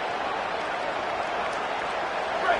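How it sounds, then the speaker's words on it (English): Dense, steady roar of a large home football stadium crowd at a college game, broad wash of cheering and noise continuing without pause across the short stretch. "Listen to this crowd just shaking the girders of this place trying to help their defense."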